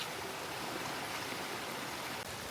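Broad, steady rushing of monsoon stream water flowing over a village bridge in Konkan, a constant full roar without pauses or voices.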